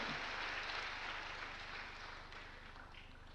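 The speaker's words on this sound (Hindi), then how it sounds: "पूरे विभाग के लिए तालियां बजाएं।" Faint, steady applause from an audience at a livelihood marketing capacity-building workshop in Bhopal, clapping for a whole government department; the clapping holds evenly and slowly thins toward the end.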